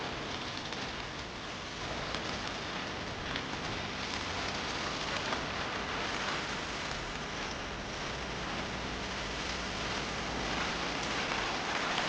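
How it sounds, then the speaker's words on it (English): Steady, dense rain from the video game Death Stranding 2: On the Beach, a continuous even hiss of falling drops that holds at the same level throughout with no talking. "It's like the rain doesn't affect her."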